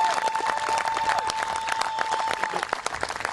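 A crowd at a high school boys soccer senior night applauds a senior player, with steady, lively clapping and scattered cheers over a faint sustained tone, continuing for a few seconds.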